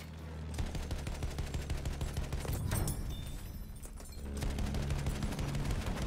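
Rapid gunfire in Battlefield 1, aimed at a Behemoth, crackles in dense bursts close up, with explosive rumble beneath and a brief lull near the three-second mark before the firing resumes.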